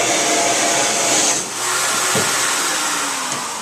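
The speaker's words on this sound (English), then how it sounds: "you can hear how loud the motor is if you're at the motor" A loud, steady central vacuum system motor drone heard right at the motor, a broadband whirring roar close by that holds constant with a brief dip midway.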